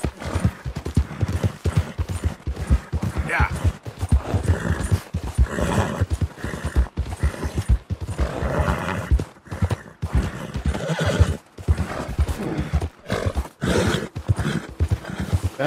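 A horse whinnies and snorts repeatedly over a steady clip-clop of hooves in Red Dead Redemption 2, loud and close, with the game ambience continuing throughout.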